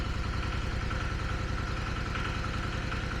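Steady, continuous drone of a small engine running a generator, loud and unbroken with a low rhythmic chug throughout.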